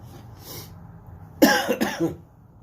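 A few harsh coughs close by, three or four rough bursts in quick succession after a quiet stretch.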